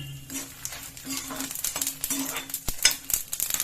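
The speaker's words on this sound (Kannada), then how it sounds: "ಕರಿಬೇವಿನ ಸೊಪ್ಪು ಹಾಕೊಂಡು ಫ್ರೈ ಮಾಡ್ಕೊಳ್ಳಿ ಜೀರಿಗೆ ಮತ್ತು ಮೆಣಸಿನಕಾಯಿನ ಹಾಕೊಂಡಿರ್ತೀನಿ" Curry leaves, cumin and chillies fry in a pan with a crackling sizzle, close up, broken by metal spoon scrapes and clinks against the pan, with a faint hum underneath.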